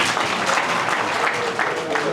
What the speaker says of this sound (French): Applaudissez pour les femmes.